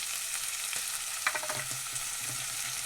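Vegetables sautéing in oil with turmeric and chili, a steady faint sizzle with a short run of light stirring clicks partway through, heard close with no voices.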